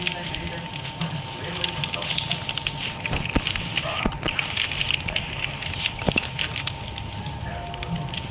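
An outdoor fire burns with steady crackling and popping and sharp snaps scattered throughout, close and continuous, with people talking in the background.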